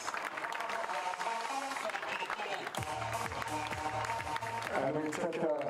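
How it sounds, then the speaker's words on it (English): An audience at a wheelchair tennis world team championship medal ceremony claps in a steady, dense wash of applause from a crowd in a large space, while an amplified voice talks over it and crowd noise swells toward the end. "a big round of applause for the Netherlands"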